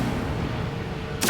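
Incendio fire spell cast in Hogwarts Legacy, a dense roaring, whooshing burst of flame held loud and close, with a brief brighter crackle near the end.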